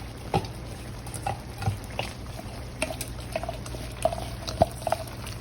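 Seasoned sauce being stirred in a skillet, giving a steady wet bubbling and sloshing bed with occasional small clicks and drips throughout.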